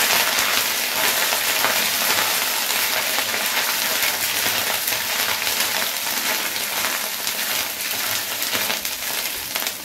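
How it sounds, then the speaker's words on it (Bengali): Ginger paste fries with whole-spice tempering in a pan for a vegetarian parwal dish, a steady close hiss and sizzle with fine crackling that carries on evenly throughout. "আদাটাকে ফোড়নের সাথে ভালো করে ভেজে নিয়ে"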